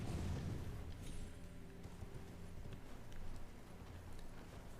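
In the Elden Ring video game, a horse gallops with rapid, continuous hoof beats over a wash of ambient game noise, with no talking.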